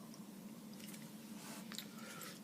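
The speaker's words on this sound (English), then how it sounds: "now I'm chewing" Soft, close chewing of food with moist squishing and faint crunches, steady and quiet against a low background hum.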